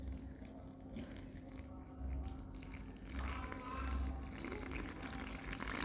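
Water is poured into a mixture in a kitchen, a faint trickle that builds into a soft splashing gush over several seconds, with no talk.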